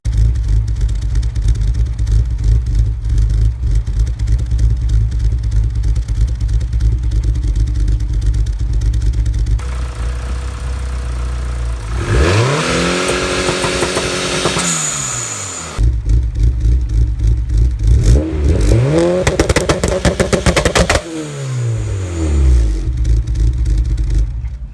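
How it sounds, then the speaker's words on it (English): A turbocharged car engine held at a steady launch-control rev with crackling bursts, then climbing revs and a sharp hissing whoosh from a new blow-off valve venting, repeated twice, loud and close. "we're going to do like a little launch control rev, which will help build up boost, and we'll see if this blow-off valve works any better"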